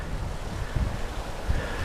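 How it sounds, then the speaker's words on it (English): Gusty wind buffets the microphone on a hillside walk at Stiperstones in Shropshire, a low rumbling rush with a couple of stronger gusts. "It's a fair bit windy,"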